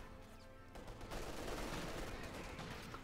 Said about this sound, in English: more firepower is being delivered straight at WhoRunBartertown